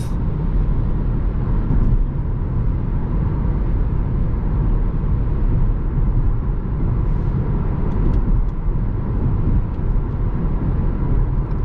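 A BMW 118i 140 hp petrol M Sport with Steptronic gearbox cruises at about 130 km/h in seventh gear below 2,500 rpm, a steady loud interior rumble of road and wind noise throughout, no speech.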